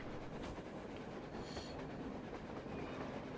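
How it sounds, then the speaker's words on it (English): A train in the video game Metro Exodus rumbles past with steady clattering wheels and occasional metallic squeals, a dense continuous roar throughout. "That's a train."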